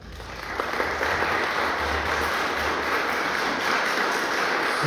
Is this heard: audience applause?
yes